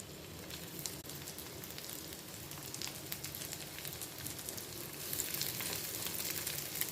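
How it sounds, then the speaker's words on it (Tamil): Prawns frying in oil in a grill pan, a steady dense crackling sizzle that holds throughout and swells a little louder toward the end, with no talking. "இப்போ ஆயிலில் ஃப்ரை பண்ணி எடுத்துடலாம்."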